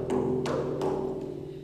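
A calf skin frame drum is struck about three or four times in a quick, light rhythm, giving a higher, brighter tone with short decays, close and unaccompanied.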